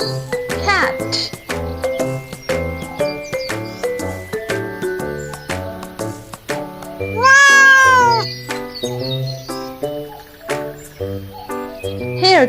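A flashcard toy plays a cute cat meowing. A clear, rising meow stands out over bouncy background music and jingles, and a voice is heard around it.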